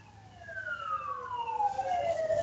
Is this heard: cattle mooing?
no